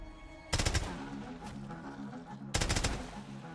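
Two loud, close shotgun blasts from a VLK Rogue in Call of Duty Black Ops 3 custom zombies, about two seconds apart, each with a short echoing tail over quiet game background.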